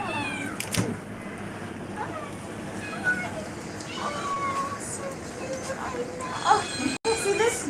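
Several young kittens meow in thin, repeated cries over steady background noise, with faint talking mixed in.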